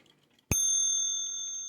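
A single bright strike on the bell of an antique clock, its clear metallic tone ringing on and slowly decaying in a quiet room.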